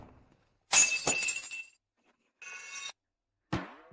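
A drinking glass slips and shatters at a dinner scene: a sharp crash with tinkling shards, then two more short bright clinking bursts of falling fragments, loud and close with no talk.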